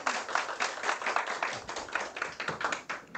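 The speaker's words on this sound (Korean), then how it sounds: "우리 교수님 오셨으니 큰 박수로 맞이해 주시기 바랍니다" A lecture-room audience claps to welcome a professor, dense steady applause of many hands heard fairly close and moderately quiet, without talk over it.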